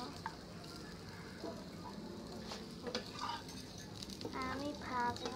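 Momos fry in hot oil with a quiet, steady sizzle and light bubbling, while a voice and small clattering sounds come through faintly over it.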